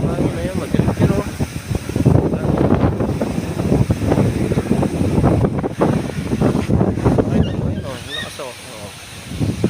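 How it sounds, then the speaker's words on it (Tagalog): Very strong wind buffets the microphone with loud, continuous roaring gusts outdoors, with people talking over it throughout. "Hirapan sila sa sobrang lakas ng hangin."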